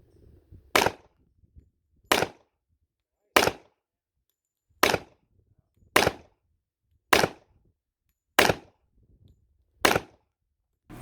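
Eight sharp, close gunshots crack at an outdoor shooting range, evenly spaced about a second and a half apart, each a single loud report with quiet between.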